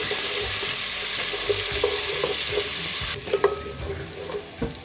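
Ginger-garlic paste and crushed cloves fry in oil with a loud, steady hiss and crackle, which drops suddenly to a quieter sizzle broken by a few stirring knocks. Nobody speaks.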